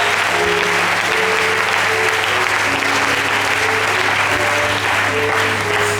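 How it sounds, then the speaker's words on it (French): A church congregation applauds loudly and steadily at an evening worship service, a dense, continuous clapping that fills the whole stretch with a faint organ-like tone beneath. "Est-ce qu'il y a un peuple qui va acclamer Jésus ce soir?"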